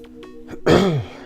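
A single person's throaty cough or throat-clear during a gaming commentary, a short close burst after some faint background tones, alone without talk.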